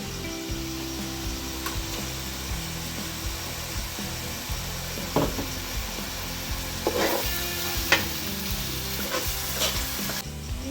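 Garlic paste sautés in a pan for Ambur-style chicken biryani, a continuous close sizzle with occasional scraping stirs and clinks of a utensil against the pan, no speech.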